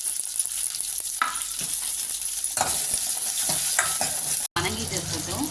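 Chopped shallots frying in hot oil for Tamil mor kuzhambu, a steady close sizzle broken by several scraping stirs of a spatula, with no talk.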